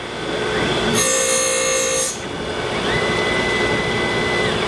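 A Tormach PSG612 surface grinder with a 46 grit wheel grinds heat-treated CPM S90V steel, a steady machine whine with a bright hissing burst of grinding for about a second in the middle, then a quieter hum.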